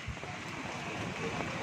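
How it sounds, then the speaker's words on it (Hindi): Dense, steady hiss of heavy rain pouring down, a broad continuous wash of sound with some wind, no speech. "कितनी तेज़ी से बारिश शुरू हुई है अचानक से।"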